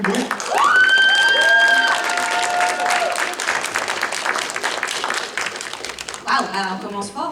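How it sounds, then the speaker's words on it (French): Audience applause at a cosplay contest during a gaming festival, a dense patter of many hands clapping steadily for several seconds, with a voice speaking over it near the start. "S'il vous plaît, beaucoup d'applaudissements au public."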